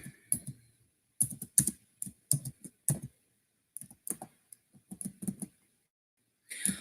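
Computer keyboard typing in short bursts of quick clicks, separated by quiet pauses, close and fairly soft.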